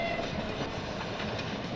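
Train sound effect from a pinball machine during a pinball game, a steady rumbling rolling clatter with a faint whistle-like tone, continuous and fairly loud for under two seconds, no talking.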